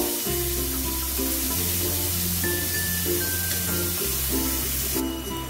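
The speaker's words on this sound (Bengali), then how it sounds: "পেঁয়াজটাকে একটু ভেজে নেব।" Onions frying in a pan for a chicken korma, a loud continuous close sizzle and hiss with a constant low hum underneath.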